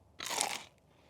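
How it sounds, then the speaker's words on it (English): A single loud, close crunch as someone bites into a hot, fresh fried peach and mango pie with a crisp crust, then a faint quieter crackle as the bite settles. "It's hot, it's fresh, real nice and crunchy on the outside."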